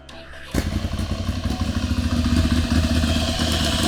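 An Italian motorcycle engine is brought back to life: after a quiet moment it fires up abruptly and settles into a loud, steady, throbbing idle with a rapid pulsing beat, close to the listener.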